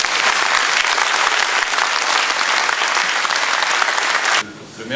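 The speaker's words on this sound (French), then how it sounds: "je crois qu'on peut applaudir la municipalité" An audience in a hall at Nogent-sur-Marne claps for the municipality, giving dense, loud, continuous applause that drops away abruptly just before the end.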